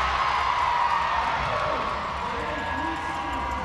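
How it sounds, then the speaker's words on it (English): A roller derby crowd at the 2011 championships cheers for Kansas City Roller Warriors against Oly Rollers, a loud sustained roar of voices and whoops that eases slightly after two seconds. "The crowd getting behind Kansas City."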